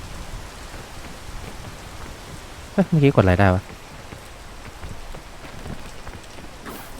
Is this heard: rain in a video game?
yes